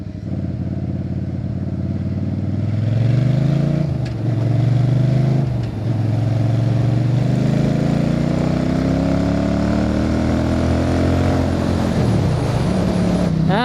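A motorcycle engine running at low speed, a close, loud droning rumble whose pitch rises and dips repeatedly as the throttle is blipped and eased during slow riding, steady and continuous with no talking.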